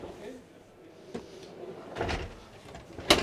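Storage drawers in the kitchen of a Dethleffs three-axle motorhome being opened and shut, giving a few soft slides and bumps with a sharper knock near the end, heard faintly and close.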